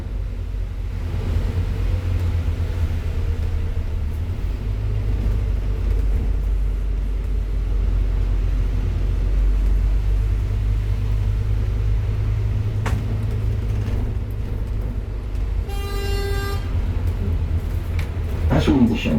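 Sightseeing bus driving through a Belfast housing estate near the Shankill Road, its low engine rumble steady throughout from inside the cabin, with a tour commentary voice over it and a brief chime near the end.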